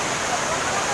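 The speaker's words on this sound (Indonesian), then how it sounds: "air yang mengalir dari atas nih, air terjun" Waterfall at Aek Sirjoni, a bathing spot in South Tapanuli, gives a steady broadband rush of falling water, loud and continuous through the short stretch.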